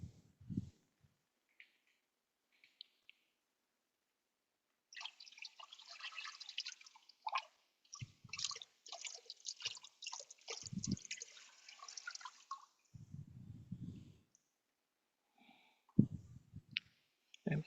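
Water drips and splashes as feet are rinsed with clean water after a foot soak, with scattered trickles and drops, quiet and close, between stretches of silence.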